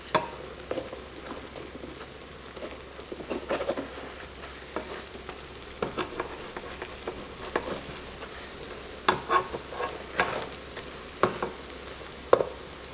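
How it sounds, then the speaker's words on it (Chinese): Glutinous rice cakes sizzle steadily as they pan-fry until golden, a soft continuous crackle broken by scattered sharper pops and occasional spatula scrapes, with no talking. "用半煎半烙的方式煎至底部变成金黄色"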